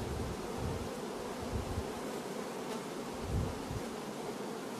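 A steady, dense buzz of many hungry honeybees at a hive during a nectar dearth fills the air, continuous and fairly close, with no voices over it.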